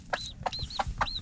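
A mother hen, an ex-battery laying hen now raising chicks, gives three or four short, close clucks in an irregular rhythm, with faint chirping layered above.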